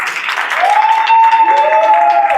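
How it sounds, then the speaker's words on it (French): An audience claps, loud and continuous, beneath a prominent sustained tone that rises and holds through most of the stretch. "applaudissez-le les amis"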